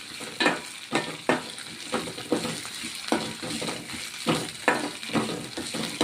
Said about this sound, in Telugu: కరివేపాకు వేసుకొని కరివేపాకు కూడా ఆయిల్లో వేగనిద్దాం